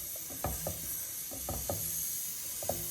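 A spoon stirs sabudana carrot kheer after cardamom powder goes in, a few soft scraping and knocking strokes in small clusters over a steady background hiss, no talking.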